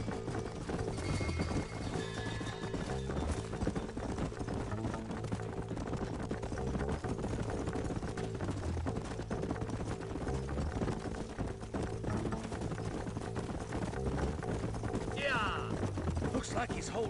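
Horses trotting in the Western video game Red Dead Redemption, steady rhythmic hoof clip-clop continuing under a constant bed of game music and ambience, with a brief whinny-like sound near the end; no speech heard.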